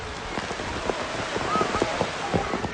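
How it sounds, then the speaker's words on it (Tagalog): Heavy rain pours steadily as children struggle up a steep, slippery trail during a rescue trek, a dense constant hiss with scattered drop impacts throughout. "Ang napakalakas na ulan."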